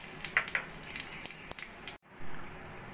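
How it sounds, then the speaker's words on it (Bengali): Cumin, bay leaf, cardamom and dry chili tempering dropped into hot oil, a crackle of sharp sizzling pops for about two seconds before the sound cuts to a quieter hiss, no speech. "ওই তেলের মধ্যে দিয়ে দেবো জিরে, তেজপাতা, এলাচ আর শুকনো লঙ্কা ফোড়ন"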